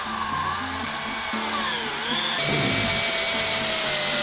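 A power screwdriver drives screws into a workshop build. A loud, continuous motor whine runs throughout, its pitch rising and shifting as the load changes partway through. Nobody speaks.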